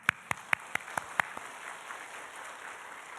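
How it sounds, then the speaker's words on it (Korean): A church congregation clapping hands in unison during a Korean worship service, six sharp evenly spaced claps in quick succession, then the room settles into quiet ambience. "손뼉 한번 쳐봅시다."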